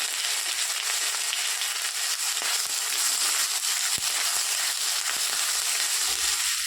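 Ginger fries in hot oil with dry chillies, bay leaf and panch phoron: a steady sizzling hiss with scattered small pops and crackles, close and fairly constant, without talk.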